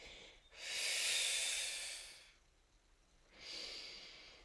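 Deep breathing during a wall-based functional exercise class: one long, loud, airy inhale or exhale, a pause, then a second shorter breath, close to the microphone.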